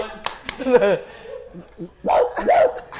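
A man imitates a dog barking with his voice, giving a few yapping, whimpering barks close up amid casual Indonesian conversation.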